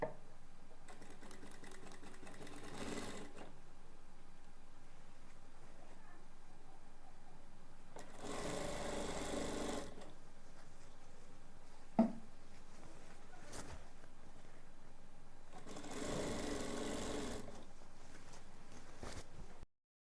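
A sewing machine stitches lace onto a ghaghra in three short, quiet runs spaced several seconds apart, with near silence between them.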